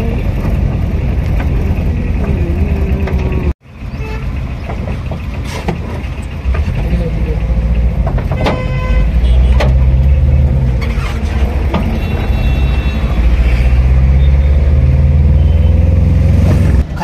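A loaded local goods vehicle drives along a road at night, its engine rumbling steadily and loud close by with revving swells, after a brief dropout near the start.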